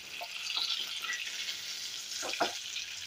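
Dried fish frying in hot oil in a pan, giving a low steady sizzle close by, with a few faint clinks and crackles. No voices are heard.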